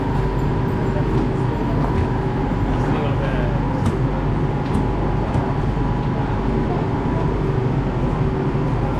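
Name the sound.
train arriving at station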